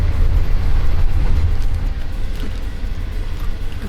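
Belt-driven generator running under an old green-skin passenger train carriage, a loud continuous low rumble and drone with constant mechanical rattle, close and unbroken.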